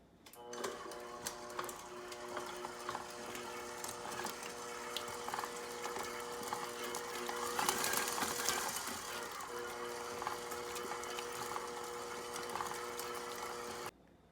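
Cupcake batter being mixed with an electric mixer, a steady mechanical whir with tonal hum and rattling beaters, continuous for the whole stretch at moderate volume and then cut off.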